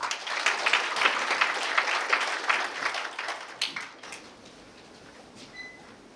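Audience applause welcoming a dean to the stage at a Korea University public science lecture, a dense roar of clapping that holds steady for about four seconds, then fades into quiet room tone.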